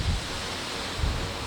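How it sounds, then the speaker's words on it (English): Strong wind gusting across a backyard during chicken coop construction, a steady broadband roar with low buffeting thumps at the microphone, and no voices. "It is still being very windy out."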